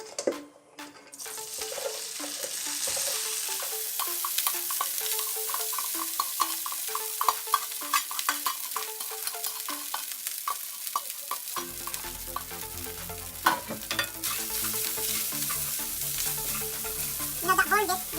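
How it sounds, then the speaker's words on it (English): Rice frying in a little oil in a pan, loud close sizzling with repeated scraping and stirring strokes throughout, the sizzle growing fuller and busier toward the end. "We get the oil, a little bit oil in it, and we put our rice in."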